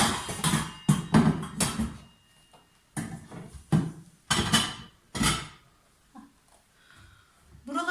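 Clattering clanks of metal pots and lids being put away in a kitchen, several sharp knocks in quick succession with quiet pauses between.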